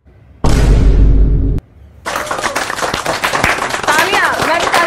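Studio audience on a quiz-show spoof set, a sharp crash-like hit followed after a short pause by a dense burst of applause and clapping that carries to the end.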